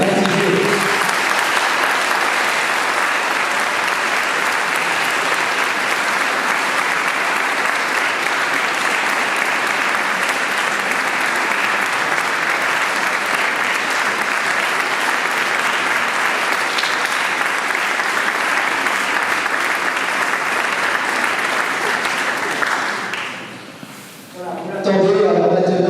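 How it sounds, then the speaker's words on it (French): A church congregation at an Easter Vigil applauds the newly baptised with sustained, loud, steady clapping that fills the space for over twenty seconds, then thins and fades briefly before a short resurgence at the end. "Frères et sœurs, par nos applaudissements, accueillons ces nouvelles baptisés."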